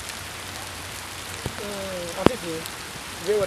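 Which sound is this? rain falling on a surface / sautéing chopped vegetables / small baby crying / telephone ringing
rain falling on a surface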